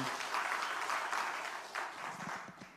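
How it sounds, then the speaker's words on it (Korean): A church congregation at a missionary sending service applauds together, a dense, even roll of clapping that fades slightly toward the end, with a little murmuring underneath. "박수를 한번 하겠습니다"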